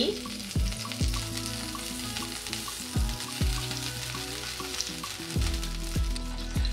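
Ghee melting and sizzling in a pan, a loud continuous fry with crackling pops and a few low scraping sweeps, no speech.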